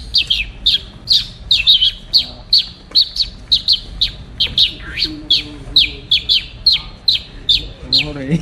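A human voice imitates a bird at Jadhavgadh Fort with a long run of loud, close, sharp chirps repeated in a quick, steady rhythm for several seconds.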